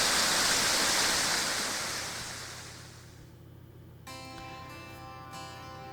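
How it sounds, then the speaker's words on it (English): A favorite waterfall roars as a loud, steady broadband rush that fades over a few seconds, leaving a quieter background where faint tonal ringing enters near the end. "This is my favorite waterfall."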